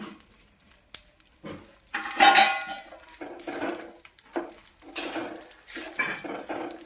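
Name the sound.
stirring dry ginger, cardamom powder and coconut into adadiya mix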